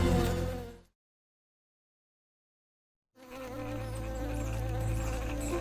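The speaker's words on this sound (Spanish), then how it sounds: "Las avispas descienden hambrientas sobre el nido de huevos de papá rana" Wasps buzz around a frog's egg nest in the wild, a close, droning insect hum with wavering pitch that cuts off into complete silence, then returns as a steady buzz with a low rumble beneath.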